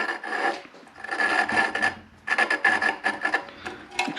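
Steady rasping of a small engine valve being hand lapped against its seat with grinding compound, close and loud in repeated back-and-forth bursts with brief pauses between strokes.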